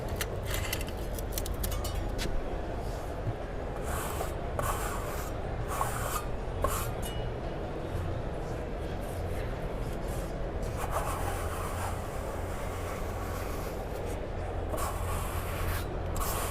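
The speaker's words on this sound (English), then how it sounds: "we can use a flat trowel to key this in to make sure this membrane sticks nice" A flat trowel scrapes and rubs thinset mortar into a tiling membrane in a continuous gritty rasp, set against a busy trade-show hall with a constant murmur of background noise.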